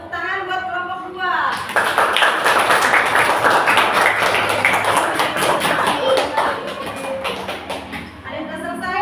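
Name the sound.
classroom clapping for group 2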